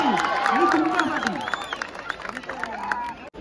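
A crowd at an outdoor festival gathering claps and cheers loudly, the applause strongest at the start and fading, with voices and a shouting announcer over the noise.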